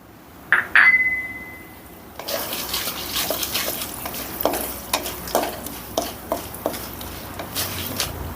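Cashews dropped into hot oil for a tempering of Karnataka hotel-style khara bath, a sharp clatter followed by steady sizzling with repeated scraping stirs of a spoon against the pan.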